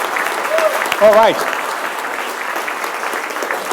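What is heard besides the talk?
conference audience applause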